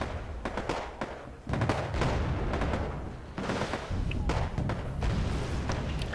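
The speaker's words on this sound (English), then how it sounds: "Firing volley after volley after volley to the VDVs." Leopard 2A4 tank firing volley after volley in the video game Wargame Airland Battle, a run of heavy booming shots and thuds overlapping into a sustained barrage of battlefield fire.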